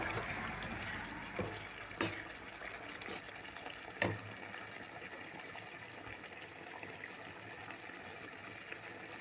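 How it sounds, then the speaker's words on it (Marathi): Malvani chicken cooks in a pan over a full gas flame with water on the lid, a faint, steady bubbling simmer with a couple of sharp clicks early on and no one speaking. "त्याला फुल गॅस केलेला आहे तर एक दोन मिनटं मी शिजू देते"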